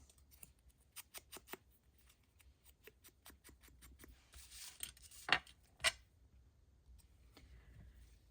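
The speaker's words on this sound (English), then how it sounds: "Maybe I'll just trim it a little bit." Scissors trimming a paper craft tag: a run of quiet, crisp snips in an uneven rhythm, close by, with a couple of sharper cuts near the end.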